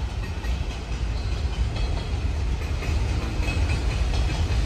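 A freight train with container wagons rolls past, making a loud, continuous rumble and rattle that holds steady throughout without a break.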